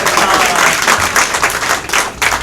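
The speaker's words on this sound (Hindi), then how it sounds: "शादी के लिए तालियां बजा दो भाई।" Comedy club crowd at a stand-up show claps loudly and briskly in a dense burst of applause, with a few whoops mixed in.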